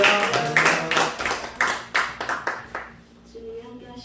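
Congregation clapping in a church during a prayer meeting, a rhythmic burst of loud, close claps that fades out after about three seconds as a voice begins speaking.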